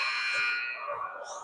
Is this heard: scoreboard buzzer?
yes